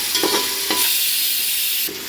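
Ginger garlic paste fries in a pan for mint rice, a loud, close, steady sizzle broken by a few scraping stirs.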